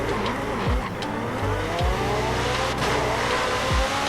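A car launches with wheel spin in the Forza Horizon racing game: a loud, steady engine roar with repeated rising revs and tire squeal throughout.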